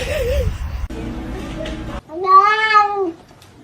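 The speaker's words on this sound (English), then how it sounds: "What is wrong with that cat?" A cat lets out one drawn-out, rising-and-falling meow near the end, following a stretch of speech and background sound from an animated scene.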